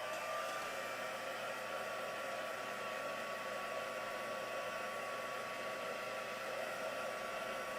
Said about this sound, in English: I'll dry it off with the heat tool a second.